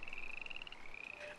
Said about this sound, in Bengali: ব্যাঙের ডাক শোনা যাচ্ছে চারিদিকে